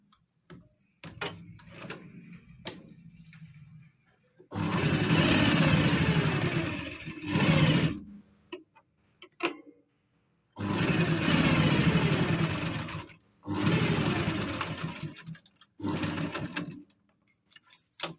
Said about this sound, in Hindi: तो साइड साइड में इस तरह से पूरे में सिलाई लगा लेंगे, बुकरम के बिल्कुल साथ साथ